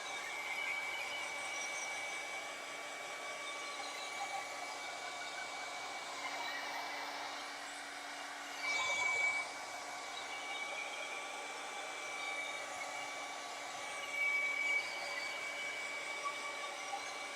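A hair dryer runs steadily over a painting to dry the paint, a constant close whirring hiss with a couple of brief louder surges, no one talking.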